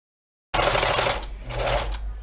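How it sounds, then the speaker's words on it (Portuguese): Sewing machine stitching fabric while making a hand-stitch style seam, a steady continuous whir running about two seconds after a brief silence, close and fairly loud. "Coloco a linha para trás e volto a costurar"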